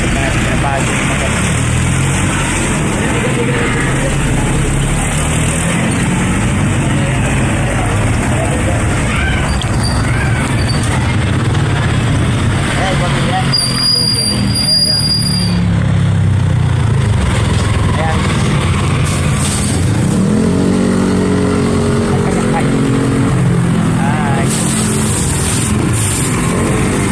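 A motorcycle engine running close by, a steady rumbling drone with some rises in pitch as it revs, while someone talks over it at times and other noises shift in the background.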